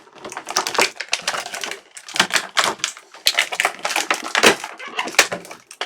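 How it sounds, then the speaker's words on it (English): A Marvel Legends action figure is unboxed close up, with dense bursts of crinkling, tapping and scraping from plastic and cardboard packaging, loud and continuous with brief pauses. "So let's open the packaging"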